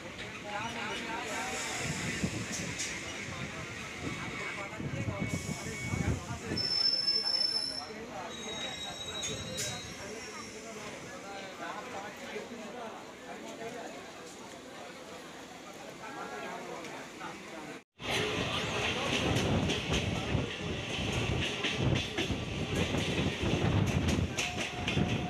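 A suburban train runs between Majerhat and Budge Budge with a continuous rumble of wheels on rails, squeals and clatter, heard from on board, with voices talking throughout and a brief cut before the rattling grows louder.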